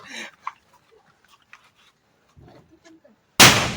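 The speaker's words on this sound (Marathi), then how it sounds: "फटाका फटाका लागला" A single loud, sharp firecracker bang goes off at close range during a Diwali Bhai Dooj celebration. Quiet voices and small knocks come before it.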